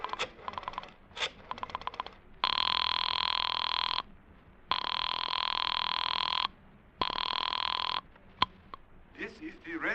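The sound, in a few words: telephone ringing after dialing a doctor's number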